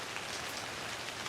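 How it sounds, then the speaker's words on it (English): Steady rain falls into muddy puddles along a hiking trail, a dense, even patter of drops with no voices. "I can show it to you in the mud puddles. It's raining."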